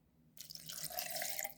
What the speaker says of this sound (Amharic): ግማሽ ኩባያ ቀዝቃዛ ውሃ